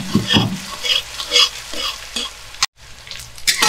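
Onion and garlic frying in a pan over low to medium flame, a close, loud crackling sizzle with stirring scrapes in quick bursts, broken by a brief near-silent gap before the frying resumes.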